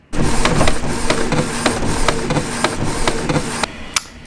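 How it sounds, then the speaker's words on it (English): A home printer printing sheets of cardstock gives a steady mechanical whir with a rhythmic train of clicks and clacks, loud and close, before it stops near the end. "So that's all we're going to do right now is print."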